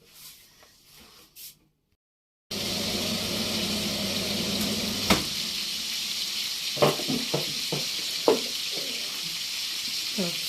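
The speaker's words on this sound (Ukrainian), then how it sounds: "ми зараз будемо жарити шкварочки" Pork cracklings (shkvarky) fry in a pan with a steady, close sizzle that runs on without a break, dotted with a few sharp pops and crackles. Softer knocks come before it starts.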